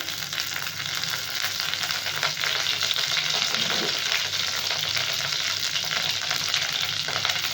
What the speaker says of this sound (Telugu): సో నూనె మరిగిపోయిందండి దీంట్లో ఫస్ట్ మనం కట్ చేసుకున్న పచ్చిమిర్చి వేద్దాం ఇది కొంచెం ఫ్రై అయితే చాలు